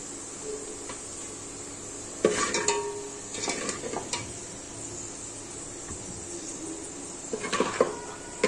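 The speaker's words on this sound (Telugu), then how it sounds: "ఇంకా ఆనియన్స్ తీసుకొని ప్లేట్లోకి వేసుకుంటున్నాను" Fried onions scooped from a pan onto a plate for chicken biryani, with scattered clinks and scrapes of a utensil against metal over a faint steady sizzle of oil.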